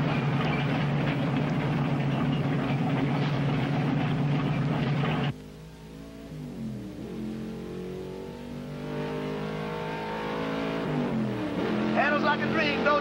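A car drives around a race track, its engine a loud, steady roar for about five seconds before the sound drops away and other quieter noises take over, with speech present.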